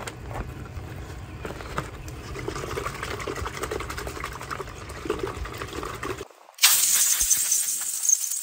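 Water rinses baking soda off corroded old marine or automotive connections, a steady close splashing trickle that cuts off briefly, then returns as a brighter, louder spray.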